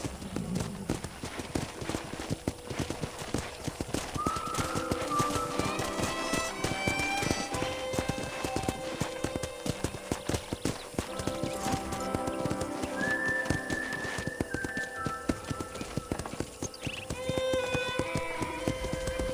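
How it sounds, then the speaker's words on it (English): Steady clip-clop of horse hooves at a trot in the video game Red Dead Redemption, with occasional whinnies and music playing underneath throughout. "let's see if you can still ride a horse"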